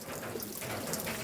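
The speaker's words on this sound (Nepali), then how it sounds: "पानी आउँदैछ है धमाधम" Water rushes strongly in a continuous, dense hiss and splash beside a village maize field, steady and close with no voices.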